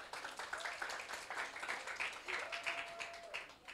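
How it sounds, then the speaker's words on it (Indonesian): A church congregation at a Christmas service claps in sustained applause, fairly faint and distant, with a soft voice briefly audible beneath it. "Tepuk tangan dong"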